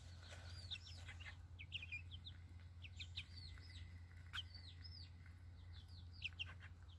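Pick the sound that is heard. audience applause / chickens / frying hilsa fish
chickens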